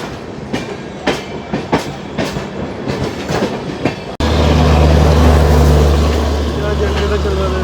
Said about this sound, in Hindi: जनरेटर चल रहा है वैसे।